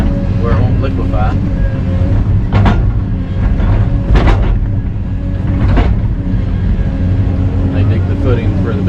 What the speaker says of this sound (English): There's a dump truck driving over